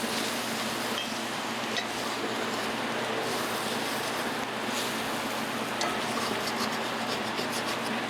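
Pot roast ingredients stirred in a pot, a steady continuous scraping and rubbing that runs evenly throughout at close range with no talk.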